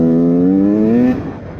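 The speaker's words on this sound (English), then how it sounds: "Throttle response is a little bit better." A KTM 150 XCW two-stroke dirt bike with a Lectron carburetor, warmed up after flooding and bogging trouble, holds a loud, close, buzzy rev that rises slightly, then drops off abruptly near the end; no talk.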